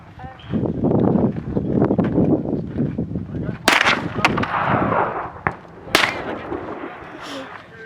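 Shots from a .50 caliber rifle at an outdoor range in Queen Valley, two sharp loud blasts with rumbling tails, set among ongoing talk by people nearby.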